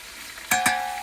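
Ginger-garlic paste fries in a pan, a steady sizzle broken by two sharp stir scrapes close together, with no voices.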